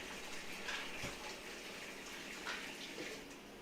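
Water runs steadily from a kitchen tap into a pan, a soft, close, continuous gush with a few splashy surges and no speech.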